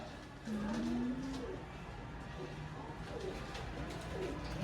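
Pigeons coo softly and fairly close, giving one drawn-out low coo early on and fainter murmurs afterward over quiet background noise, as if in a pigeon shop.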